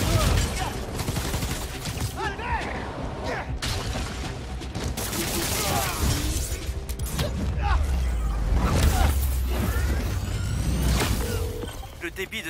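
Gunfire in the Spider-Man: Miles Morales video game, bursts of rapid shots mixed with mechanical clanks, creaks and whooshes, dense and busy game action with voices speaking over it.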